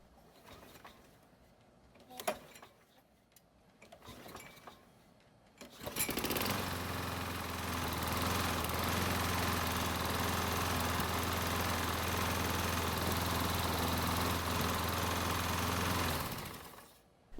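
A lawn mower engine starts up with a burst and then runs steadily and loudly for about ten seconds under test while its drive gear is engaged, ending abruptly; a few clunks of handling come before it starts.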